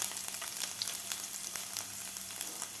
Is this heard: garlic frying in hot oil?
yes